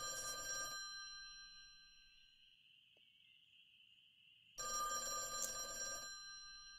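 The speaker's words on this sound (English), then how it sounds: "And the phone's ringing." A telephone rings in the video game A Chair in a Room: Greenwater, at a motel: a loud burst of bell ringing, then a long steady tone, then a second ringing burst.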